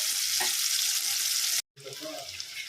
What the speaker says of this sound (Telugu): బాగా ఫ్రై అవుతుంది. గోల్డెన్ కలర్ వచ్చేంత వరకు మనం